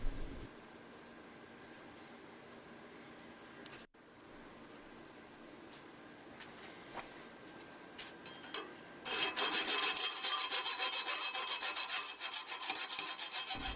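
Brass rod parts are cut with a saw, starting as faint, scattered scraping and then becoming loud, rapid, continuous rasping strokes close by for the last few seconds.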